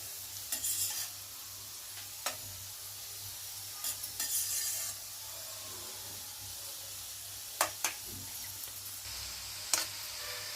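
Raisins fry in a pan while being stirred, giving a steady quiet sizzle and hiss. Occasional scraping strokes of the spoon break through, close and soft, with no voices.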